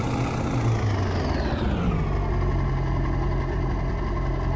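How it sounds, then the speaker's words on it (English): A deep, rumbling diesel engine of a 1993 Ford F-150 pickup in the game Farming Simulator 25 drones steadily, its pitch dropping as it slows to a lower idle-like hum. "Does definitely sound like a diesel engine on it."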